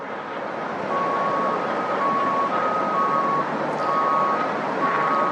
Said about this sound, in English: we got the Tonka truck over here pushing dirt over the edge of this big pile